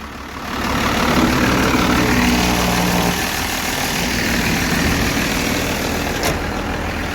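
A second-generation Cummins diesel truck engine cranks and catches, then settles into a steady, loud, low rumbling idle that runs on continuously, with no talk over it.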